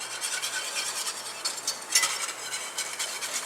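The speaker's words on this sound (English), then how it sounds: "we're going to slowly start adding in our flour" Flour being stirred into about three cups of oil heating over medium-high heat to make a roux, a soft, steady scraping and stirring with a faint sizzle and a few sharper clicks, close and quiet.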